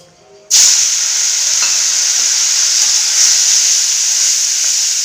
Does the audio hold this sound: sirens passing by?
no